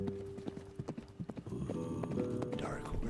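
Horse hooves clip-clopping as a sound effect, a quick run of distinct close hoofbeats that blends into a busier mix with a whinny-like tone and a voice talking over it.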